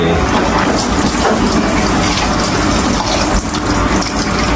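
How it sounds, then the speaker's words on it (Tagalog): Water from a kitchen faucet gushes loudly and continuously, close by and alone, with no voices. "ay tumigil ang gripo"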